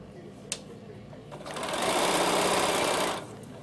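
A sewing machine runs a normal straight stitch at 2.5 length across a garment bag with reverse and lace appliqué, a steady loud whir of about two seconds rising after a faint tap and stopping abruptly.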